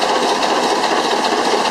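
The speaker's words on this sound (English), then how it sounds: "It's basically just the mechanical noise of the valve gear and the various pumps." Even, continuous mechanical clatter from the diesel engine of a 22m Alaska Packers tug at full cruise speed, mostly valve gear and pumps with almost no exhaust note, heard up close in the engine room without voices.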